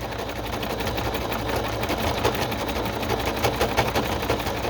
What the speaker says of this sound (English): for my sewing machine.